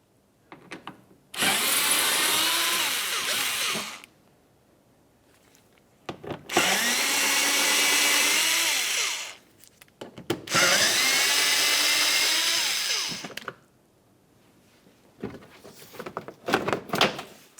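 A power tool runs in three sustained bursts of a few seconds each, removing three 5.5mm mounting bolts from the inner fender liner of a 2009-2019 Ford Flex, with small clicks and handling noises between and after the runs.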